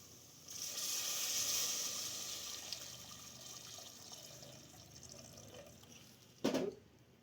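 Water is poured onto soaked rice while making Telangana-style bagara rice, giving a steady, soft splashing hiss that runs for several seconds and ends in a brief louder splash or clatter.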